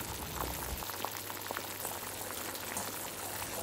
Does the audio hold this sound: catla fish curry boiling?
yes